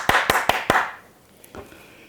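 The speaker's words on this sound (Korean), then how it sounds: "모두 박수." A few sharp hand claps, about four quick, evenly spaced, from people at a residents' redevelopment committee gathering, followed by a faint lone clap or two.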